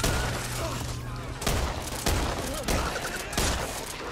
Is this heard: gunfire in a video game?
yes